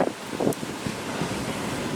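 Strong wind from Storm Isha gusting through trees in the UK or Ireland, a loud roaring rush buffeting the microphone, with a sharper surge near the start and a sustained blustery roar after.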